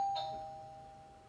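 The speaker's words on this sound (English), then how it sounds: "That's our doorbell." A doorbell chimes once in a quiet room, its bright tone ringing out and slowly decaying with no voices over it.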